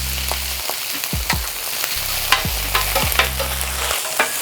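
Rice being spread and stirred in a hot pan of avocado oil for chicken fried brown rice, with a steady background sizzle broken by several scraping strokes from a spatula against the pan, close up and with no talking.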